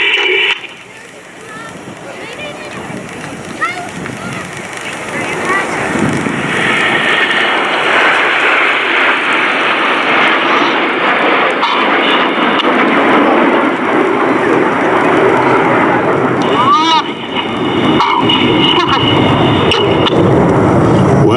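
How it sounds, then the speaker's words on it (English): Red Arrows BAE Hawk jets fly past at the 2019 New York International Air Show, a loud, broad jet roar that builds after a few seconds and holds steady while a commentator talks over it. "As the smoke of Phoenix goes off, the aircraft about to bank around to the right."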